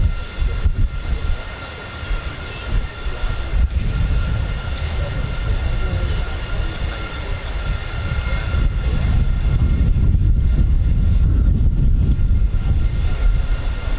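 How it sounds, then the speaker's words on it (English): A Luftwaffe Airbus A400M turboprop transport approaches at an airshow, a rumbling low-pitched engine drone that builds louder over time amid outdoor crowd noise and wind. "The Luftwaffe Airbus A400M. Here it comes."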